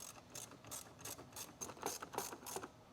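Rapid bursts of ratchet clicking while two 7mm screws are removed from a Jeep Wrangler JK tweeter mount, several quick clicking runs close up and fairly quiet, with no talk.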